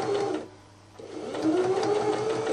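A sewing machine stitches a strip-patchwork tote bag in two steady runs with a brief lull between them, the motor whirring close by and rising slightly in pitch.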